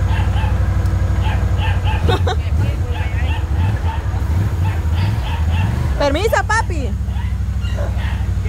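A small dog gives a few yips and whimpering barks near the middle and again toward the end, heard over a steady engine hum and a background murmur of voices.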